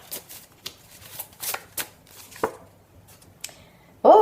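Tarot cards are shuffled by hand in quick soft riffles and taps, close and fairly quiet, ending in a sudden louder burst of noise.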